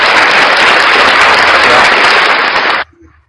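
A crowd claps loudly and densely in a thick, unbroken wash of applause that stops abruptly, leaving near silence.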